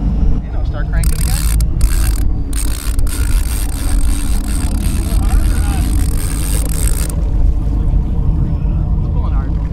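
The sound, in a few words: fishing reel being cranked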